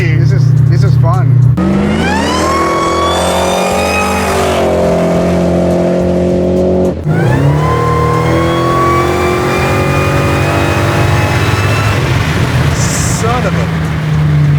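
A 1000 hp supercharged LS9 V8 Chevy Colorado ZR1 pickup with nitrous accelerating hard, a loud rising engine roar climbing through the gears with a pause at one shift, heard from inside under the cabin noise.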